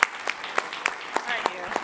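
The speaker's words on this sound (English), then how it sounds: "Give yourselves a round of applause and have a great evening." A summit audience claps at the close of a food and agriculture policy event, with sparse, distinct hand claps in an uneven rhythm over a background of murmuring voices.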